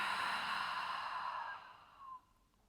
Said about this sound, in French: Et expire par la bouche.